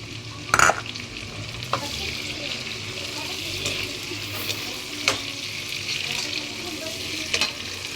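Tomatoes are tipped into a hot frying pan for a mung bean dish and stirred, giving a steady close sizzle with occasional scraping knocks from the utensil.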